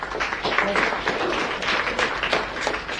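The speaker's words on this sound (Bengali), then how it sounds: "মহিলাদের জন্য হাততালি হোক।" An audience at a health workshop clapping for the women, a dense, fairly close patter of many hands under a continuous crowd murmur, holding steady for a few seconds.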